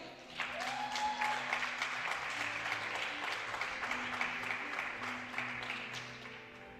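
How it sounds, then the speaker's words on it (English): Audience applause in an arena for two air rifle shooters at a European Championship solo men's event in Osijek, Croatia; steady dense clapping from many hands, loud and sustained throughout with a faint tone and background noise underneath. "And a round of applause from you for them for being so amazing"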